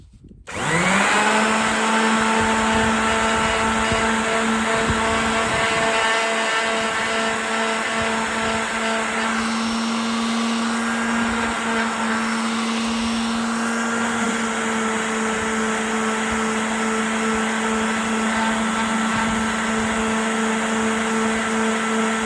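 A power sander works on small clamped pieces for a wooden side table, a loud continuous high whine and hum that starts abruptly and holds steady throughout, close and unbroken, with no talking.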